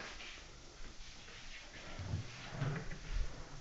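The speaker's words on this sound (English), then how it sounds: "You have to pull the drawer out" A drawer slides out of a homemade wooden drop-leaf desk with quiet scraping, then a few soft wooden bumps and knocks near the end, close by and fairly faint.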